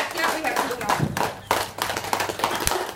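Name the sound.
hand clapping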